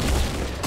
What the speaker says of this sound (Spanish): Me estaban disparando dos.